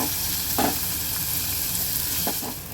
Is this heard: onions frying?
yes